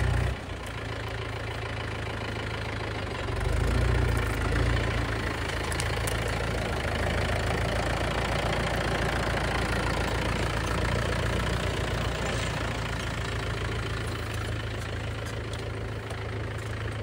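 A farm tractor's engine idles steadily for the whole stretch, a constant low rumble with a brief swell in loudness around the fourth second and no voices.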